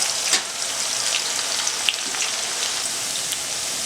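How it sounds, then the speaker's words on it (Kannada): Thinly sliced onions fry in a pan of hot oil with a steady, close sizzle and occasional sharp pops and crackles, and no one talks. "ಅದಕ್ಕೊಂದು ದೊಡ್ಡ ಕಪ್ ಎಣ್ಣೆ ಹಾಕೊಂಡು ಅದು ಬಿಸಿ ಆದ್ಮೇಲೆ ತೆಳ್ಳಗೆ ಸ್ಲೈಸ್ ಮಾಡಿರುವ ಆನಿಯನ್ ಹಾಕ್ತಾ ಇದ್ದೀನಿ"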